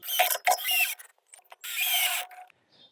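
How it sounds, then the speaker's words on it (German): Wood screws are driven to fix a guide rod to the floor of a Fiat Ducato L3H3 van, heard as short bursts of a close power screwdriver whirring, separated by brief pauses. "In unserem Fall mit einfachen Holzschrauben fixieren wir sie nun am Fahrzeugboden."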